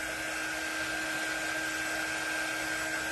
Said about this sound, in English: you're definitely going to want to sand it